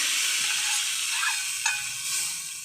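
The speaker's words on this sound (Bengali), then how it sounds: "এবার দিয়ে দেবো এই তড়কা," Hot tempering poured into kadhi off the heat gives a steady, close sizzle and hiss that runs throughout, with a brief sharper crackle near the middle.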